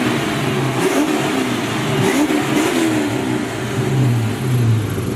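A Foxbody Ford Mustang engine revving through its exhaust, several throaty blips rising and falling close by over a steady idle rumble, loud and with no talking.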